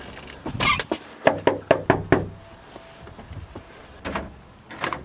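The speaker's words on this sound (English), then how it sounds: "let's knock on this door." Someone knocks on the door of a house, five quick, sharp raps in a row, followed later by a few softer thumps and shuffles, with no talking.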